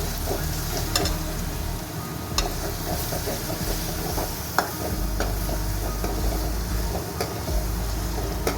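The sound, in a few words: garlic and ginger paste sizzling in a pan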